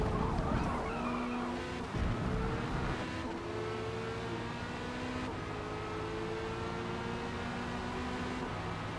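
A race car in a racing video game laps Suzuka, engine droning and shifting through gears with tire squeal and skids as the car struggles with heavy understeer, loud and steady.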